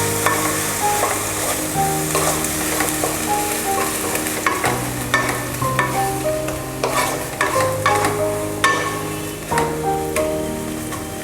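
A spoon stirs a milk mixture in a pan for mawa gujiya filling, a steady rhythmic scraping with a soft sizzle underneath, close and fairly loud, with no voices.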